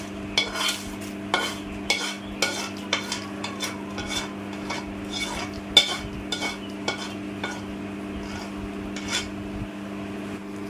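A large batch of tomato pickle mixed with chili powder is stirred, giving repeated scraping and wet clacking strokes at an uneven rhythm over a constant low hum, close and moderately loud.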